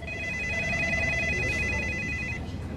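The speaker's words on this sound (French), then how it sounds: "Les téléphones du cabinet d'avocats n'arrêtaient pas de sonner." Telephones in a law firm's office ringing insistently, a steady electronic trill repeating without pause, loud and close over a low background rumble.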